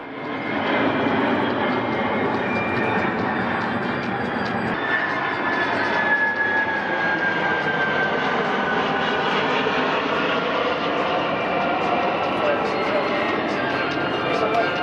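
A Kawasaki C-2 military transport plane of the Japanese Self-Defense Force roars loudly and continuously nearby at an airshow in Australia, its engine drone holding steady with a slowly shifting whine.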